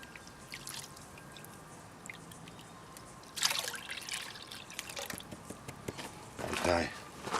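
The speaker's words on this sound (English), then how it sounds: "the water's in the creek" Creek water trickles in a steady, faint wash, with scattered clinks and a couple of louder splashy bursts near the middle and end, no voices over it.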